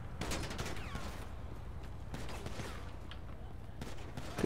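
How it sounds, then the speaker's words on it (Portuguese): Scattered gunfire in GTA V with the LSPDFR police mod, several shots crackling over a steady low rumble, with a few sharp bursts spread through the stretch. "Ó, disparos, já dá pra escutar."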